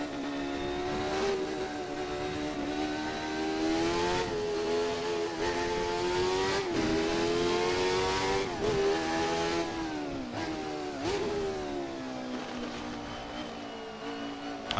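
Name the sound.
Jordan 191 Formula One car at Spa, racing video game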